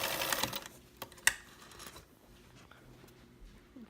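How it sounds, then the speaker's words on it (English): A sewing machine back tacks at the end of a seam on a Mooncatcher garment, a short burst of fast stitching with a sharp click, then quieter handling noises as it stops. "And we're again going to back tack."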